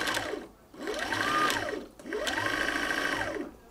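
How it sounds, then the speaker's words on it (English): Sewing machine winding its bobbin, running in two steady whirring bursts with a rising and falling motor pitch and a brief pause between them, close by and with no talk. "There are some machines where as soon as you snap that in place, it starts automatically winding."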